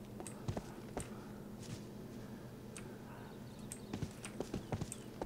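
Horse hooves clip-clopping in the RIFT video game, a quiet run of irregular hoof clops at a steady walking pace, sounding alone.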